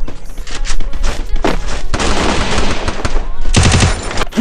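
Gunfire in the Free Fire mobile battle royale game: dense, loud bursts of automatic fire and scattered single shots with thumps, continuing almost without pause.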